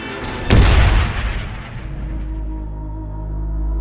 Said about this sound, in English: As the Hood sinks, the forward gun crew heroically fires a final salvo.